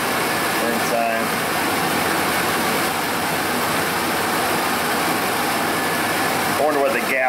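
A Ford F-150 engine with a single-cylinder misfire runs at a steady idle, loud and close throughout, with brief voices talking near the start and end.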